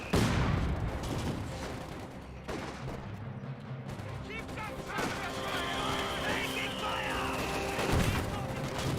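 A mortar shell strikes in the video game Company of Heroes 2, a burst of booming impact amid ongoing battle noise and gunfire, with someone talking over it throughout.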